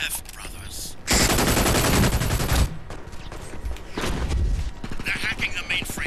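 Gunfire in the multiplayer shooter Brink, with dense bursts of automatic fire that come and go over several seconds, loud and close, and a voice speaking at moments between the bursts.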